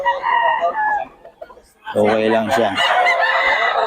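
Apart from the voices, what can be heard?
chicken clucking and crowing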